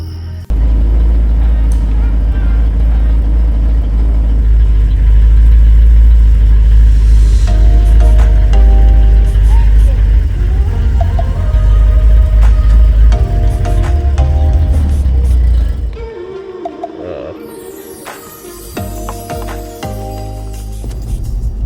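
A 1962 Ford Fairlane 500 engine running at night, a loud, steady low rumble for about fifteen seconds that cuts out as the engine stalls, followed by quieter clunks and shuffling noises.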